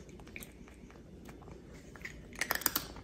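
A cat chews crunchy food close up, with soft wet mouth sounds at first and then a burst of sharp, crisp crunches toward the end.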